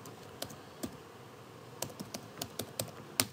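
Sparse keystrokes on a computer keyboard, a handful of light, irregular clicks close by with quiet gaps between them, no voices.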